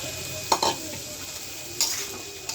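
Small potatoes drop into a hot pan of frying curry with egg and stalks, giving a couple of short sizzling bursts and stirring clatters over a steady low frying hiss.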